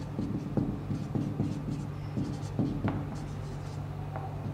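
Handwriting on a board during a class 9 chemistry lesson makes intermittent scratchy strokes in short bursts over a steady low hum, fairly quiet and close.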